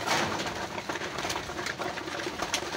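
Racing pigeons coo softly while being fed at a loft, low murmuring calls layered over a steady rustling background, fairly faint and close, without speech.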